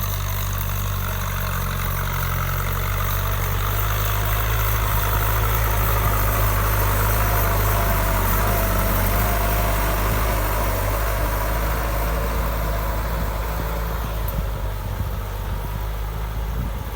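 A Kubota M6240 tractor's engine idles steadily and loudly up close, with a deep, constant low rumble and no pauses across the whole stretch.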